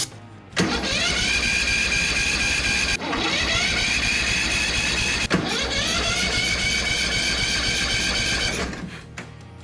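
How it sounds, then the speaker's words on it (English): A Craftsman ZTS7500 zero-turn mower engine runs loud and rattly at close range, a steady rough drone with two brief dips where the revs drop before it winds down near the end. "Fire it right up. It's kind of loud and rattly"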